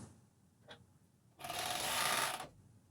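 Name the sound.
Juki sewing machine sewing underwear fabric layers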